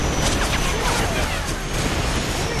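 A loud, dense roar of gunfire and an RPG explosion in the Modern Warfare 3 campaign video game, a continuous crashing wash with no clear gaps.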